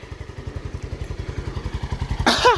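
A Lifan KP Mini 150 motorcycle engine idles close by with a steady, rapid low pulsing, followed by a brief sharp clatter near the end.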